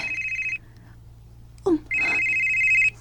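A telephone rings with an incoming call, an electronic trilling tone in two bursts with a short gap between them and a brief knock in the gap, clear and close.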